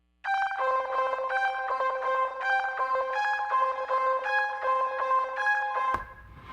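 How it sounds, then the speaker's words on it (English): A bright, bell-like synth patch called Fractal from the Expand plugin plays a steady repeating riff with shimmering sustained tones, loud and alone, cutting off abruptly near the end. "the first sound we got is this sound called Fractal out of Expand."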